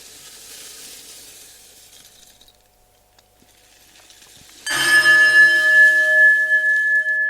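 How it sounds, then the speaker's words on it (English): Traditional meditation bells rung to end a Zen practice session; after quiet rustling, a single bright bell strikes clearly and rings on with a long sustained shimmering tone. "I've used the traditional bells today, 1 bell to start practice and 3 bells to end."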